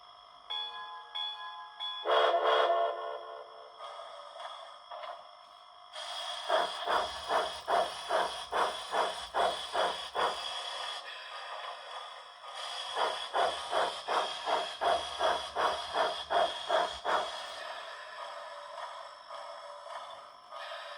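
Soundtraxx Blunami sound decoder running a self-contained model steam locomotive: a steam hiss and bell-like ringing open, then two long runs of rapid rhythmic chuffing with steady hiss underneath, fairly close and clear, no talk.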